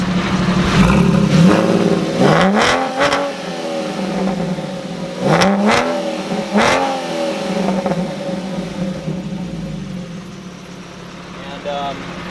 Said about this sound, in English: We'll get a little rev blips.